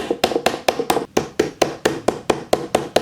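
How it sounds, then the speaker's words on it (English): Clear plastic drawer pieces are hammered into an IKEA ALEX drawer, giving a quick regular series of about a dozen sharp, close knocks with short ringing tails. "you're going to take 4 of those and basically hammer them in"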